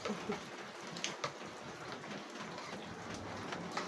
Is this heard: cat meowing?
no